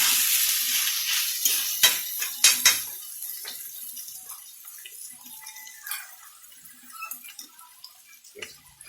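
Water poured into a hot pan makes a hissing sizzle at the start that fades gradually, with sharp clanks of a utensil against the pan and soft bubbling after.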